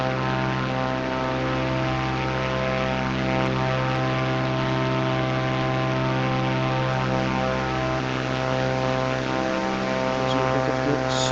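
A propeller airplane engine in a flight video game hums in a steady, even drone with a constant tonal whine, unchanging and alone with no talking.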